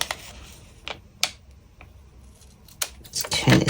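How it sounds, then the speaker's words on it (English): Scissors snipping through a sticker on a Sterling Ink Weeks notebook page, a few short crisp cuts spaced apart, close and fairly quiet, ending in a busier rustle of paper handling. "Now I'll just cut it there."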